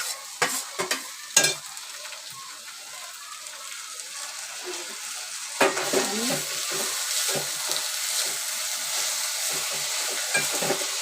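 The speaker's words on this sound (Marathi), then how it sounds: "तुम्ही भाजी फोडणीला घालते." Vegetables are tipped into a sizzling Malvani-style tempering, with sharp spoon clatters against the pan, then a steady hiss of frying and more intermittent stirring knocks, fairly close.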